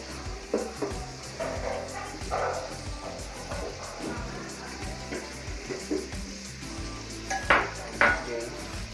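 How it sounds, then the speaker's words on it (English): Curry-colored fried rice with carrots being stir-fried in a pan, a continuous close sizzle broken by scraping stirs and a few louder clatters of the utensil against the pan, with no talking. "So stir fry it for a while. You know, I put in my carrots."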